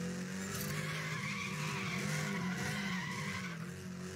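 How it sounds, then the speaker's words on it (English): A car in Need For Speed: The Run drifts with loud, continuous tire squeal and skidding over a straining engine, close and sustained throughout. "Some really cool drifts."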